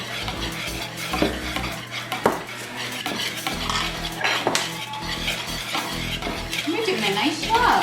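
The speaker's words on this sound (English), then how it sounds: "You wanna try to whisk? Just mix it regular." Blondie batter is whisked in a bowl with quick, rhythmic scraping and clinking of the whisk against the sides, close and busy throughout, with occasional louder knocks.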